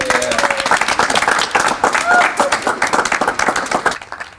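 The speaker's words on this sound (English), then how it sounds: "Please, let's give him a clap for that." An audience at a dating talk breaks into sustained, dense applause that stays loud for several seconds before thinning out, with voices mixed in.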